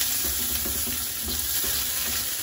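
Sardines frying in rendered pork fat in a pan, a steady close sizzle with light stirring, constant and moderately quiet with no talking.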